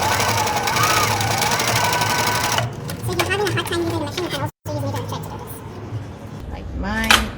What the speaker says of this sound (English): So put it on the machine and just stitch it.